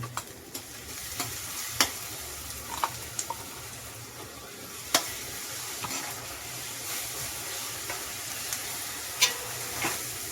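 Ground masala paste sautéed with roasted onion, a quiet constant sizzle with sparse spoon taps and scrapes against the pan at irregular intervals.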